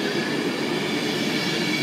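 A Class 390 electric train, unit 390128, pulls out of Warrington Bank Quay station for London Euston with a loud, steady rumble of rolling wheels and rail noise, close by and continuous.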